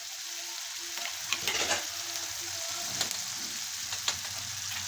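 Cumin and mustard seeds sizzle and crackle in hot oil in a wok, a steady frying hiss with occasional sharp pops and a faint background hum.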